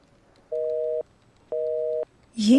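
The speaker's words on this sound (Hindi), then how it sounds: "नैन्सी का नंबर बिजी मिल रहा है" Repeated busy-signal tones on a phone call, two evenly spaced half-second beeps with silence between, followed by the start of a voice at the end.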